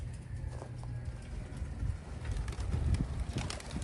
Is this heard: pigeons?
yes